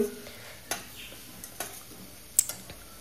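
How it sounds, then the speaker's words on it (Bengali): Spice masala of coriander powder and Kashmiri chilli powder fries in a pan for veg biryani, giving a quiet sizzle broken by scattered spatula scrapes and light clicks. "মশলাটাকে ভালো করে ভেজে নিতে হবে"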